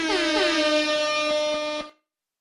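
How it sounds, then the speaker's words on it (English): Loud blaring air horn sound effect, a single sustained blast of about two seconds with slightly wavering pitch that cuts off abruptly. "We give an air horn for the bot."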